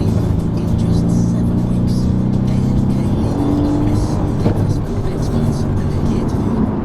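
Car engines, including a Mercedes C63 S, roar continuously at high revs on a race track, a loud sustained drone with a rising pitch sweep midway, like cars racing past.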